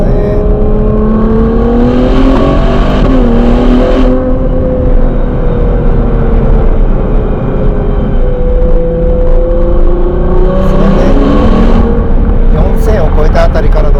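A Ferrari Purosangue's engine and exhaust drone loudly from inside the cabin while driving on Tokyo streets, rising and falling in pitch as it accelerates, with someone talking over it.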